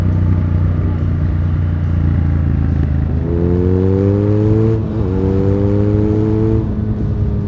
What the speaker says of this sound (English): BMW's has rumble, but the Triumph has more.